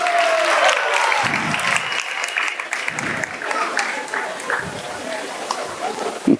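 A crowd at a Radhastami devotional gathering gives a sustained round of applause, dense clapping holding steady for several seconds with a few louder claps near the end.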